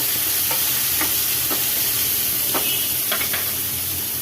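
Boiled snake gourd is sautéed in a pan of oil with curry leaves, giving a loud, continuous sizzle and hiss broken by light spoon scrapes and taps against the pan.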